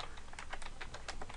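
Typing on a computer keyboard, a quick run of close, crisp key clicks in an uneven rhythm, with no voice over it.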